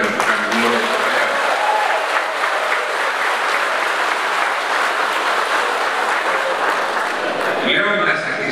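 Audience at a political campaign event breaking into loud, dense, sustained applause, a continuous roar of many hands that holds for several seconds before cutting off.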